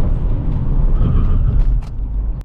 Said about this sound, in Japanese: 先にブレーキテストをお見せしましょう。